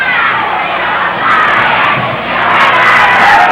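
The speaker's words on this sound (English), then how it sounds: "Crowd now rallying the defense." A high school football crowd in 1984 shouts to rally the defense, loud massed yelling that swells in waves, with a dip before rising again, no distinct voices standing out.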